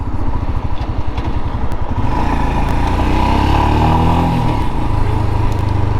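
A Royal Enfield Himalayan motorcycle thumps along at a steady single-cylinder beat, then its engine note rises smoothly as it accelerates and shifts, loud and close with wind rush beneath, no talking.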